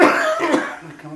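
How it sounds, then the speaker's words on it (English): A man in an interview coughs once, harshly and close by, with a throat-clearing rasp trailing off into quiet. "I don't know why I suddenly developed a cough in your program"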